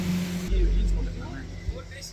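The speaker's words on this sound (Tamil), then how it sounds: "ஒரு ஸ்பீட் போட் ஒன்று வருது பாருங்க" A speedboat passes on the backwaters at Alappuzha, heard as a low engine rumble with a brief louder swell under a person talking.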